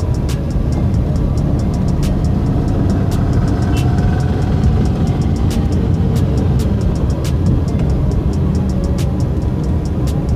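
A car's engine drones steadily while driving in third gear at night during a driving lesson, a continuous low hum with scattered light ticks and clicks throughout, heard from inside the cabin.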